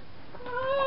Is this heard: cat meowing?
yes